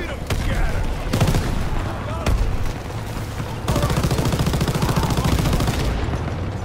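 Gunfire in Call of Duty WWII multiplayer, loud and close with rapid automatic bursts and heavy booming shots, a long sustained fusillade toward the end, with a voice talking in the clip.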